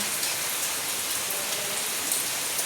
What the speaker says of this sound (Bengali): এগারোটা থেকে বৃষ্টি শুরু হয়েছে এখন বাজে সাড়ে ছটা সকালে সাড়ে ছটা তো দেখো এখনও বৃষ্টি হচ্ছে